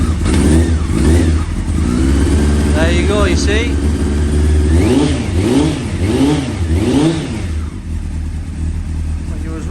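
A motorcycle engine idles and is revved several times in rising and falling surges during a voltage test of a new regulator rectifier, loud and close, while someone talks over it.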